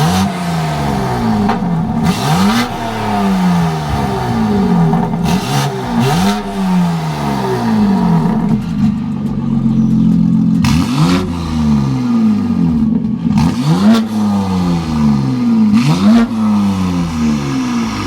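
BMW G80 M3 Competition with an IRL 3.5-inch modular catback exhaust, valves closed, revving repeatedly in loud sweeping pulls with rising and falling pitch, about six blips in a steady rhythm, close and alone.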